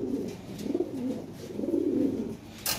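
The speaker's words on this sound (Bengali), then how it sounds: "খুব ভালো ভালো কোয়ালিটির কবুতর আছে আজকে।" Fancy Lahore siraji pigeons coo close by. The low, warbling calls run continuously over the whole stretch, with no voices.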